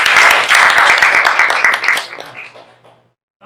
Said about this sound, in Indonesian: Kasih aplaus untuk Dista dan Adrin